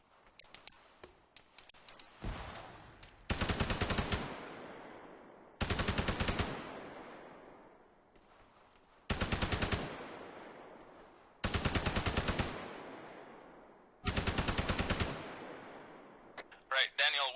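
Five long bursts of rapid automatic gunfire crack out at close range after troops open fire on contact, each burst followed by a trailing echo, with quieter gaps and some scattered sounds between them.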